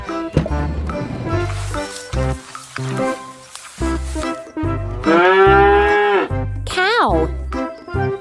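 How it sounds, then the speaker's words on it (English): A cow moos in a long, loud, low bellow that swells and fades, set among bouncy children's music with a voice and other farm animal calls nearby. "Cow."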